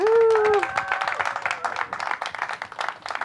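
Applause at a virtual head-shaving charity fundraiser, honoring participants who raised money; scattered, modest clapping follows a brief sustained tone at the start and continues steadily for a few seconds.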